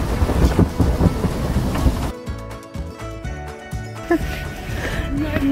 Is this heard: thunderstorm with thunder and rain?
yes